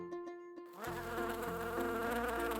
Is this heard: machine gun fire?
no